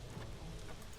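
Steady rain pours outside a castle entrance in the Shadowgate video game, a dense, even hiss that fills the whole moment without pause and with no voices over it.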